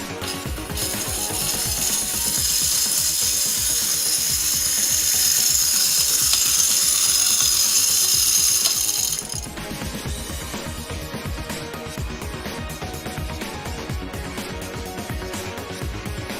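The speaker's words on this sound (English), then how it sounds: "I don't remember where I put the little vacuum cleaner." A small vacuum whines at a high pitch for about nine seconds, then shuts off, leaving quieter mechanical rattling and clicking.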